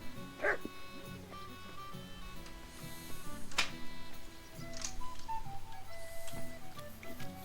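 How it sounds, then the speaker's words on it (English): A dog in the video game Kingdom Come: Deliverance II lets out a few scattered barks and yips over a faint game soundscape with soft musical tones, the barks fairly close and moderately loud. "Oh, good doggy, good boy."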